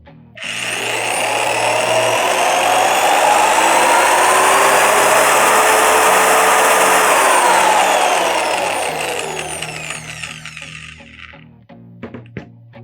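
A Procraft PMM 2000 construction mixer runs from minimum up to maximum speed: a loud motor whine with a squeaky, climbing pitch holds for several seconds, then winds down and fades as scattered small knocks follow.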